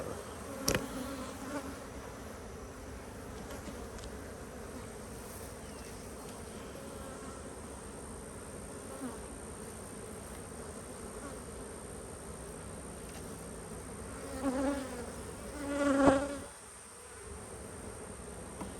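Honey bees buzz steadily around hive boxes at a cow pasture apiary, a dense continuous drone close by, swelling louder briefly near the end as bees fly past.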